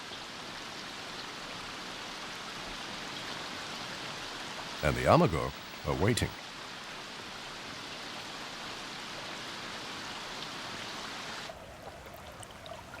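Steady rain pours onto a mountain stream where amago trout wait, a dense even hiss running throughout, with a brief voice speaking midway over the downpour.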